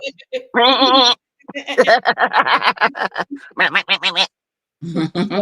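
A billy goat gives a single loud, wavering bleat near the start, then people talk over the rest.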